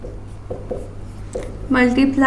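Writing on a board during a maths lesson: a few short, scratchy strokes, then a voice begins speaking close by.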